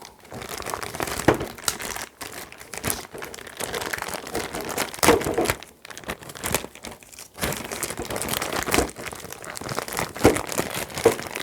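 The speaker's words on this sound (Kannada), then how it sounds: "ಸೊ ಈ ಥರ ಒಂದು ಪ್ಯಾಕ್ ಬರುತ್ತೆ. ಇದನ್ನು ಓಪನ್ ಮಾಡಿ ಹಾಕಬೇಕು." Plastic packaging of an air purifier filter crinkles and crumples steadily as it is torn open, with close, bursty rustling lasting throughout and brief pauses between handfuls.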